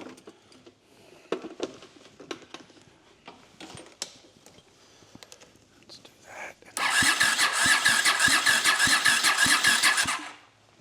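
A previously seized Honda CX500 adventure motorcycle cranks after some clicks and handling noises, then catches and runs loudly for a few seconds with a rapid, pulsing beat before cutting off.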